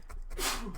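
A single sharp, breathy sneeze bursts out, close and loud, after a brief quiet moment.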